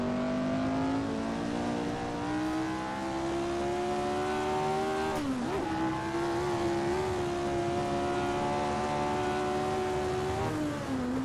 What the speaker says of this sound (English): sound of these Ford Cosworth V8s. They have really nice sound to it